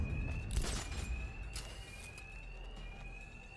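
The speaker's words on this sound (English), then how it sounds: "these thugs can't hear a thing over the alarms" In the Batman Arkham Knight video game, a wavering high-pitched alarm wails steadily and a little distant over a low background rumble, with a few sharp impacts early on.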